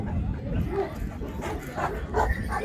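Anatolian shepherd dogs bark and yip in short bursts at moderate distance, several sharp calls spaced irregularly, with someone talking alongside them outdoors.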